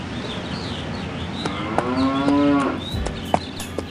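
A cow on a farm near Villanova Tulo lets out a single long, close, loud moo that rises and falls over about a second and a half, with quiet rural background around it.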